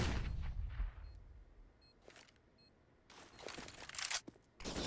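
Rifle fire from a spray in CS:GO on the Vertigo map during an IEM Beijing 2020 match between Heroic and Ninjas in Pyjamas, with loud bursts of shots at the start and again near the end and quieter game noise in between.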